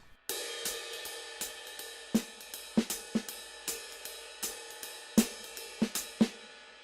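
Finger-drummed jazz groove on a pad controller, a steady run of crisp percussive hits with soft snare ghost notes tucked between the louder accents, played alone with no talk.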